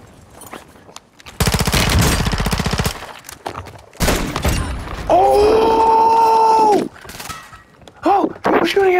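Automatic gunfire from a Warzone 2.0 video game match: a dense burst of rapid shots, then a second long stretch of firing with tonal in-game effects, loud and close, with a player talking over the action.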